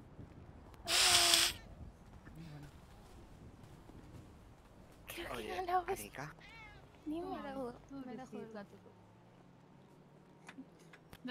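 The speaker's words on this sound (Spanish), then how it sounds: "Mira cómo maulla, mira cómo maulla." A cat meows in a bright, brief burst near the start, followed by a Spanish-speaking person talking over scattered handling noises.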